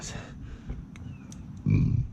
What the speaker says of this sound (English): Excuse me, burped.